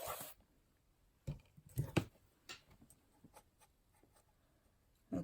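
A scoring tool drawn across a sheet of craft paper, quiet scratchy strokes and small clicks in short irregular bursts, close by with no talking.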